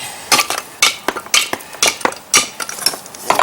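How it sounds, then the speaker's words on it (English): A hammer knocks concrete blocks out during lintel installation, producing sharp clinking impacts in an uneven, rapid rhythm close by. "I get the hammer, knock them right out of there"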